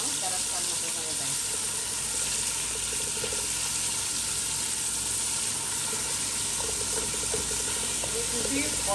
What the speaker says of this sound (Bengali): পেঁয়াজগুলো এখন বাদামে হয়ে আসলো